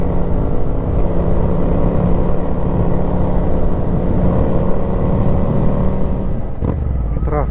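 Road traffic surrounds a rider on a long-distance motorcycle endurance ride, with a steady, loud engine drone and wind rumble throughout and a brief shift near the end.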